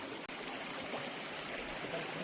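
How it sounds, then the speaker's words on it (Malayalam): A forest stream runs beneath a dried-out wooden footbridge, giving a steady, soft, even rush of flowing water with no voices over it. "ഒരു അരുവി കേട്ടോ ഫോറസ്റ്റ് അരുവി എന്ന് പറയാം നമുക്ക്"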